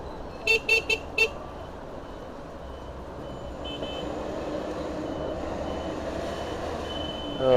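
Rush hour street traffic in China heard from an electric bike: a quick burst of four electronic beeps, then a steady rumbling wash of engines and road noise that swells louder toward the end, with no speech.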